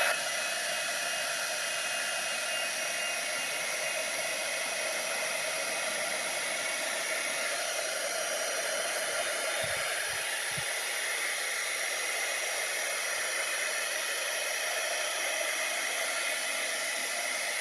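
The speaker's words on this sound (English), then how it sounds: "So I'm now going to heat set that, and then that ink's not going anywhere." A heat tool blows a steady, loud, airy whoosh without a break while heat-setting ink, with a few faint low thumps partway through.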